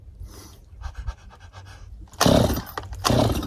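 Chainsaw engine being pulled to start, with faint sputtering pulls and breathing at first, then two louder bursts of rough engine noise close by, one catching briefly.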